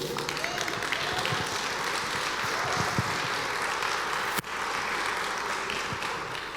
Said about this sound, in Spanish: Si le vas a dar un aplauso al Señor, dáselo bien.